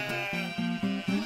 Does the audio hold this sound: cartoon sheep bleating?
yes